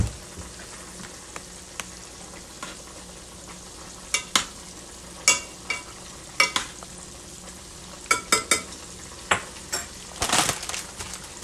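Water boils with pork cracklings in a pot on the stove, giving a low steady bubbling hiss punctuated by irregular sharp pops and clinks of stirring that cluster toward the end.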